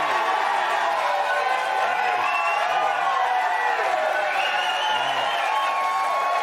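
A studio audience on a late-night talk show applauds and cheers, a loud continuous wash of clapping and crowd noise that holds steady throughout with voices blended in.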